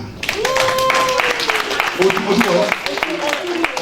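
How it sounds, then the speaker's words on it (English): An audience applauds an honoured woman at a gathering, steady clapping sustained for several seconds beneath voices speaking and calling out. "Put your hands together for Mrs. Titi Otunuga."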